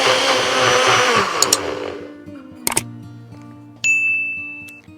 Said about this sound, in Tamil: ஸோ நான் இப்போ இதை பிளெண்ட் பண்ணிக்கிறேன் மிக்சியில்.